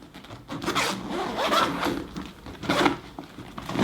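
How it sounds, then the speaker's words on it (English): A zipper on a camera backpack's expansion section pulled open in a few quick, rasping strokes, close by and fairly loud, with no voices. "you can just open up this zipper"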